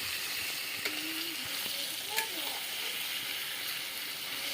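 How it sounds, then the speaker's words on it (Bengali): Chicken kosha being sautéed in a pan for luchi, with a steady close sizzle and frying hiss throughout, broken by a couple of faint stirring clinks and scrapes. "মাংসটা ভালো করে কষে নেব"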